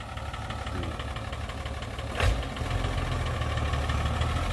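An Isuzu NPR truck with a 115-horsepower engine idles steadily with a low, rumbling drone and a brief louder rev partway through.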